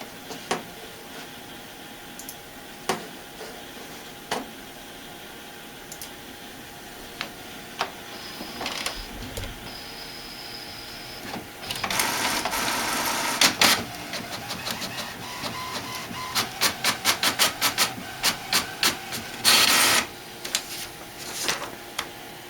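An HP Officejet inkjet printer runs a test page, starting with sparse clicks and ticks, then a steady mechanical whir broken by rapid bursts of carriage and paper-feed clatter, heard up close with no talking.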